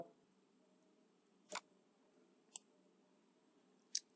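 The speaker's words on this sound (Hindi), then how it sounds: "हम डबल क्लिक करेंगे" A computer mouse clicks during work in LibreOffice Writer, three sharp, isolated clicks spaced about a second apart over near silence in a quiet room.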